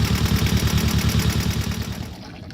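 A small repaired water pump motor running close by, a loud rapid rhythmic chugging that fades slightly near the end.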